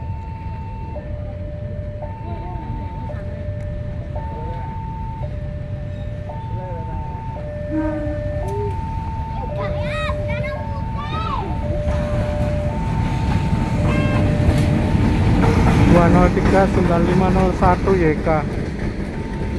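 At Sidoarjo station, the Pandalungan passenger train rolls in on track 2 while a two-tone station chime repeats. A loud, steady rumble of wheels builds toward the end, and an announcer speaks over it.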